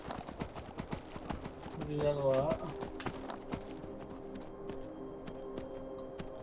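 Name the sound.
horse hooves clip-clopping in Skyrim video game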